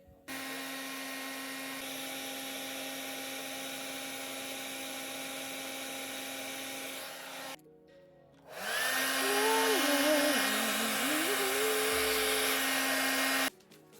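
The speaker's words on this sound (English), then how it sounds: "Time for some hairdryer action." A hair dryer blows with a steady whir and motor whine, stops briefly, then starts again louder for several more seconds.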